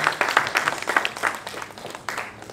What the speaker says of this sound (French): On va l'applaudir en espérant que les panélistes sont ensemble.